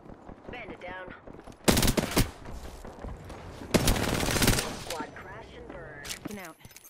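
Automatic gunfire rips through an Apex Legends match in two loud, sustained bursts, the second longer. Quieter game sounds and voices fill the gaps between them.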